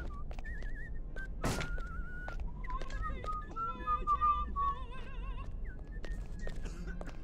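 Guard whistling a wavering tune in the stealth game Hitman: Blood Money, heard mid-distance among in-game ambience, a sharp thump and scattered clicks, running for several seconds.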